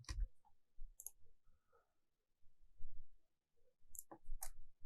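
Keyboard typing while entering names in the NBA 2K16 roster editor: short bursts of clicky keystrokes with pauses between them, close and fairly quiet, no talk.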